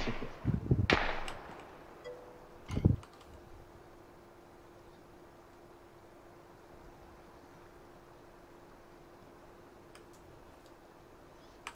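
Gunfire in the battle-royale game PUBG: two loud, sharp shots crack out close together early on, then only a low steady hum remains.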